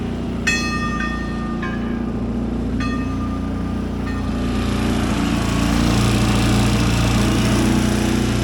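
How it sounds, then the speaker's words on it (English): Small outboard-style engine on a 21-foot sailboat motoring on Long Island Sound, a steady droning hum throughout with a few brief metallic pings early on. "Our speed dropped below 3 knots, so I figured, well, what the heck, we'll get the engine going."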